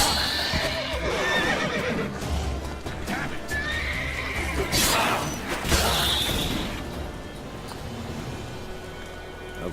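Horse whinnying and neighing with clip-clopping hooves in the video game The Witcher 3: Wild Hunt, loud and close, with creaking mechanisms and a sharp thud among the steady hoof sounds.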